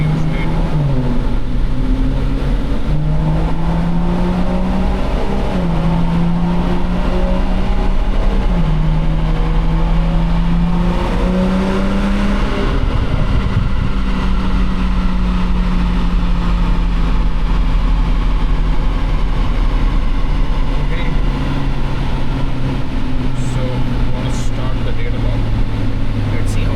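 A Stage 2 tuned BMW M340i LCI with exhaust modifications accelerates through a long pull, its engine note climbing steadily in pitch, dipping at gear changes and rising again, loud and close throughout.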